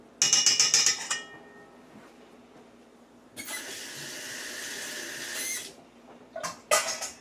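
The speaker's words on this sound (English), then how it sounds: "Stir that up a little bit." A fork stirs sugar and yeast into water in a bowl, giving a rapid squeaky scraping burst, then a longer rough swish, and a final pair of short scrapes, all close up with no voices.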